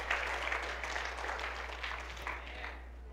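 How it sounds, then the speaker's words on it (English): A congregation claps during a Sunday morning church service, a sustained wash of many hands applauding at a moderate distance over a low hum, without distinct speech. "Could you give the Lord a hand clap and say, Lord, thank you for that scripture."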